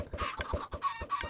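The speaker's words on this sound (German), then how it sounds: "Muss er schneller die Hühner hier raushauen." Chickens clucking in Minecraft, a rapid run of short bursts close up, with many birds overlapping and no talk.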